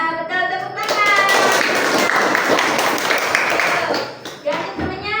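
A classroom of children bursts into enthusiastic clapping that swells quickly and holds for about three seconds before tapering off. Young voices chatter and call out over the applause and continue after it.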